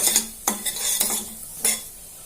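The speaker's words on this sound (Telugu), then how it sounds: "దీన్ని కూడా ఎర్రగా వేయించుకోవాలి మాడకుండా ఈ విధంగా కలుపుతూ ఉండాలి" A spoon stirs semolina roasting dry in a pan for fresh coconut halwa, giving a few separate scraping strokes against the metal over a faint sizzle, close by with no voices.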